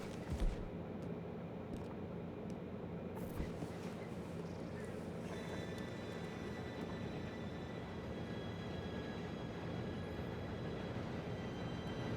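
A train arriving in Red Dead Redemption 2, a steady rumbling rail roar that builds and holds for the whole stretch, with a brief sharp sound near the start and voices talking over it.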